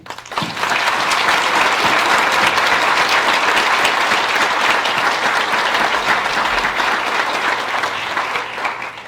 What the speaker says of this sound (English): I want to give a big round of applause for all the students that are here tonight.